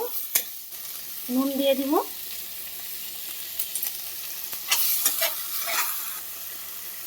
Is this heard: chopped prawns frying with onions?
yes